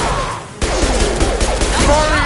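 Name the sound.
impact shot gunfire in Mass Effect video game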